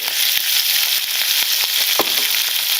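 Green chillies fry in oil in a pan with a steady, loud, close sizzle and faint crackles throughout, and no voices.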